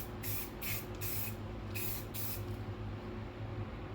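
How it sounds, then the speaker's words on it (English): A can of white spray paint hisses in several short bursts close by, each one a second or less, followed by a steadier low hum. "Spray some white down."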